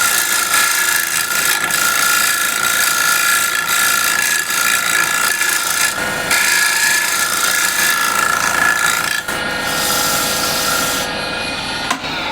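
A steel scraper shear-scraping the inside of a turned wooden bowl on a lathe gives a loud, continuous raspy rubbing with a ratcheting texture, holding steady for several seconds with a few brief breaks.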